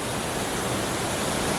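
A waterfall in Africa gives a steady, dense roar of falling water that fills the short stretch with unbroken rushing noise and no other sounds.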